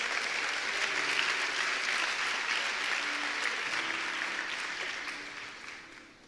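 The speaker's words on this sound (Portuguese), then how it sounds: "você pode aplaudir." A church audience applauds during a sermon, dense sustained clapping from a crowd that fades out toward the end.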